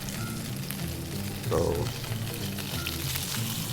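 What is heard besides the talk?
hog snapper fish pan-frying skin side down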